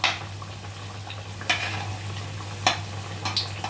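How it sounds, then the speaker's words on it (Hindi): Wheat flour biscuits fry in oil over a medium flame with a continuous close sizzle, broken by a few sharp scraping stirs and clinks of a utensil against the pan. "बिल्कुल पूरे बिस्किट को हमें मीडियम फ्लेम पे ही फ्राई करनी है"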